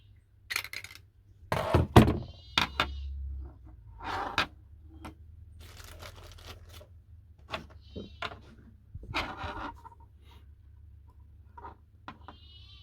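A vintage Diana Model 1 airgun is test-fired, giving a sharp thunk with a short rattle near the start, followed by light handling clicks and knocks close by.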